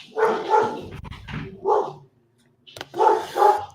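Dogs bark indoors in a house, a run of loud, close barks in two bursts separated by a brief quiet gap, with no talking over them.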